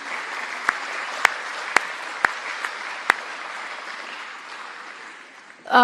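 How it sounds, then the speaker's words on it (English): Applause at a San Francisco State athletics Hall of Fame ceremony: a steady wash of clapping from the audience, punctuated by a few louder nearby claps, fading toward the end. "So please give a round of applause to all who support our program"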